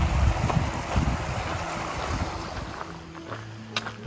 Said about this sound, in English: creek right here, great water source.